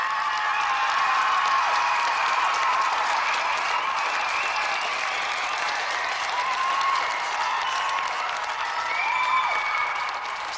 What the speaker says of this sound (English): let's have a round of applause for both our semi-finalists, Greg Watson and Gary Harrod.